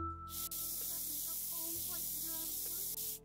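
A spray can hisses steadily onto a model dragon horn, a continuous close airy rush lasting nearly the whole time after a brief quiet start.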